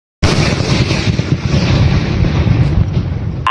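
A thunder firecracker exploding: a sudden loud blast followed by sustained dense crackling and rumbling at close range, holding steady for about three seconds with no voices.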